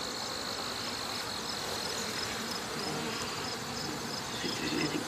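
Honeybees buzz steadily at a hive entrance in late summer, a dense, continuous drone of many insects close by with no voices over it.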